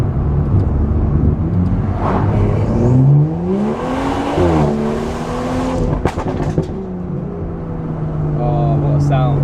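A BMW M235i with a custom exhaust revs up after a downshift while driving, engine note rising and falling in sweeping harmonics with a sharp crackle near the end, loud and close under intermittent talk.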